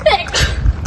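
A single sharp human sneeze, close and loud, on a walk behind an old hotel building near Rugby.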